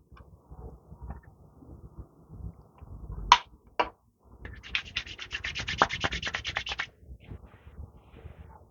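Hands rubbing serum into hair, soft close swishing and rubbing strokes, a couple of sharper brief scrapes, then a dense rapid rubbing stretch of about two seconds before quieter handling.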